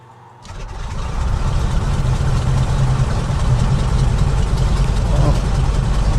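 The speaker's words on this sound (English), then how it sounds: "Very deep sounds as you would expect from the Wasp engines, Pratt & Whitney Wasp." A Pratt & Whitney Wasp radial engine on a Gee Bee racing aircraft in a flight simulator catches and starts, then settles into a loud, deep, rumbling idle that holds steady throughout.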